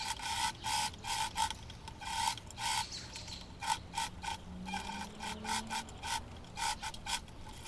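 A sewing machine understitches dress fabric for an apron-style dress, running in short stop-start bursts of rapid mechanical whirring and clatter, close and moderately loud, with no voices.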